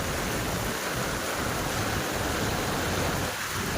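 Steady, dense downpour roars continuously, a heavy wash of rain with no voices.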